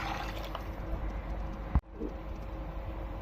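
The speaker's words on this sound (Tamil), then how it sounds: "இப்போ இந்த பருப்பு தண்ணியோடு ஊற்றிடலாங்க." Lentil water is poured into a pot of rasam cooked with tamarind water, tomato and turmeric, a soft continuous liquid gurgle with a brief splash partway through, faint and close.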